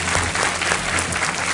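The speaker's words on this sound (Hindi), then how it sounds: "बहुत बहुत तालियों के साथ इनका स्वागत" Studio audience applause on a televised quiz show, a loud, full wash of clapping that holds steady throughout.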